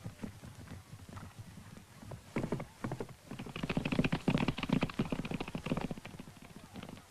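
Horses gallop in a race in Dolpo, Nepal, hooves drumming in fast, dense clip-clops that build from a distant patter to a louder, closer thunder and then carry on steadily.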